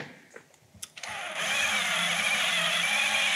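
A drill spinning an eraser wheel at low speed on the paint of an Oldsmobile Cutlass Cruiser to lift a sticker starts after a few light knocks and then whirs steadily and close, growing slightly louder.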